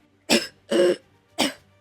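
Three harsh coughs in quick succession, close and loud, with short pauses between them.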